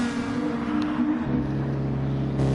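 A race car engine in a sim racing game roars past near the final corner, a buzzy high-revving tone that drops in pitch partway through as the car goes by, loud and without talk.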